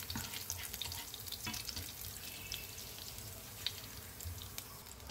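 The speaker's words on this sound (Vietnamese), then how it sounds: "Mình để ngò gí vô phi cho phần ngò gí vàng và thơm." Coriander frying in cooking oil in a pan gives a steady, dense crackling sizzle with occasional pops, close and continuous, no voices over it.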